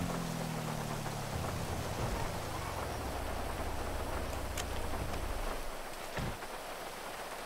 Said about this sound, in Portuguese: Que chuva infernal.